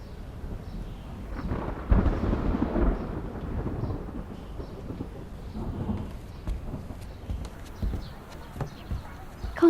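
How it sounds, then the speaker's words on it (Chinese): Thunder rumbles up suddenly out of a clear sky, a deep rolling boom with a few louder swells that keeps going the whole time, mixed with rain and some scattered clopping. "刚才晴空万里，这忽然又打雷了。"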